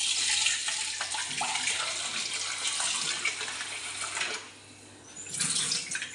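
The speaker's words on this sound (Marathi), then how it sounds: "आता मी काय करणार आहे की चहा पावडर व्यवस्थित धुवून घेणार आहे" A kitchen tap runs steadily while used tea powder is rinsed under it, a close, hissing stream of water that breaks off briefly near the end before splashing back on.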